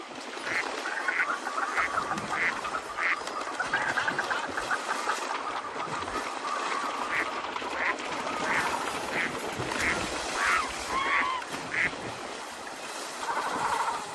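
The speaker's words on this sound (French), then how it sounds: "Des oiseaux aquatiques à perte de vue." A dense flock of waterfowl, including mallards and goosanders, quacking and calling over steady outdoor background noise, with many overlapping calls throughout.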